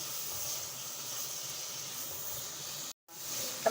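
Vegetables and tomatoes frying in a pan for a mixed vegetable sabzi, a steady soft sizzle close by that cuts out briefly near the end before resuming.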